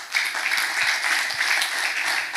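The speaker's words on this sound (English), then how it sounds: "I want another round of applause for being the sponsor" Conference audience applauds the event sponsor, a dense, steady wash of clapping sustained evenly throughout at close range.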